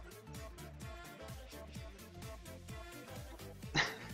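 German shepherd dog whimpering softly indoors near a couch, a thin repeated whine with a brief sharper yip near the end, heard close under a low background.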